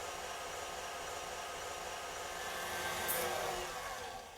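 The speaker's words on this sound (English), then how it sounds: "Then I'm going to jack this mixer up, and I'm going to let it go" Electric mixer running at high speed whipping marshmallow, a steady close whirring drone that swells slightly toward the end.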